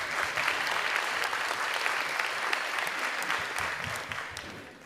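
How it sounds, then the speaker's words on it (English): A crowd at a State of the City 2024 event at the Desert Hot Springs Recreation Center claps for the staff, a steady wash of applause that holds evenly and eases off slightly near the end. "Let's give them a round of applause."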